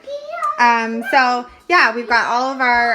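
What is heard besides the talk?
kids talking in the background at home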